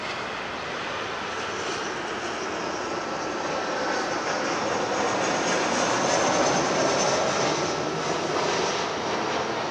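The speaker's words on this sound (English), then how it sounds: "We have another plane coming in. It's a Southwest from Phoenix, a 737-700." A Southwest Boeing 737-700 arriving from Phoenix lands at LAX. Its jet engines make a broad, continuous roar that grows slightly louder midway and holds steady, with no talking.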